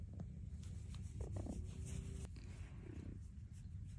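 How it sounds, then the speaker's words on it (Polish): A cat's soft, low rumbling purr continues steadily up close, with faint rustling and small handling noises over it. "Słyszycie, ona tak zawsze mruczy fajnie."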